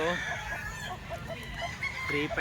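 A young rooster, a stag about nine months old, crows in short harmonic calls over a steady background din of other fowl, fairly close and loud.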